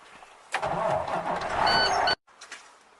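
A truck engine starts with a sudden loud crank and catch, then runs for about a second and a half before cutting off abruptly, followed by faint clicks in the quiet.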